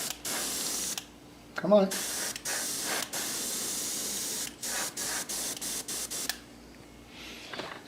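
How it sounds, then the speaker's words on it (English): An airbrush sprays paint in short bursts of hissing air that start and stop repeatedly, close and fairly loud, while a voice speaks briefly between the bursts. "I think my airbrush is ready to go"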